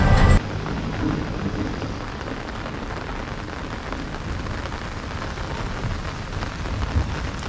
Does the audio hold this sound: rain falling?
yes